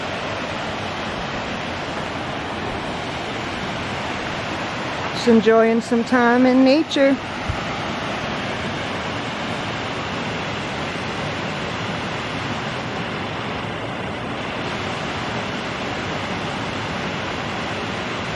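River water rushing below Hungry Horse Dam in Montana, a steady broad roar running throughout, with someone speaking briefly over it partway through.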